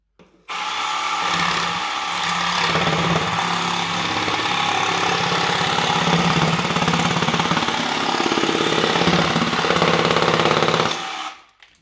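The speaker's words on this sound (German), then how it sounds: "Der Staubsauger war jetzt Playback," A vacuum cleaner runs steadily in a carpentry workshop during floor laying, a loud continuous broadband roar with a faint low hum, starting abruptly and cutting off near the end, with no talking over it.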